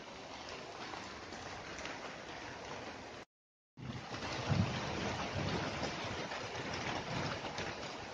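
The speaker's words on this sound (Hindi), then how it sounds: "जब मैंने वीडियो बनाना शुरू कर दिया तो उसके बाद देखिए बारिश शुरू हो गई।" Rain falls in a steady, dense hiss that runs evenly throughout, broken only by a brief moment of silence before it resumes.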